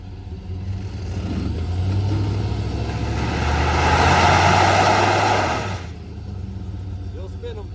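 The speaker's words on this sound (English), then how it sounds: "will this new Chevy do a burnout?" A 2024 Chevrolet 2500 pickup with the 6.6L gas V8 holds a steady, loud engine roar that swells into a sustained burnout run for several seconds, then drops back to idle, with faint voices in the background.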